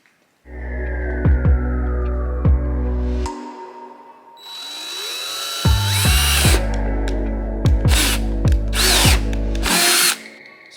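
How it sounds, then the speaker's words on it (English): A power drill with a 3/8 drill bit boring a hole in a Honda Civic, loud close whirring bursts that start, stop and restart with rising whine, grinding into the workpiece between short pauses. "Now to drill this hole here, we're going to use a 3/8 drill bit."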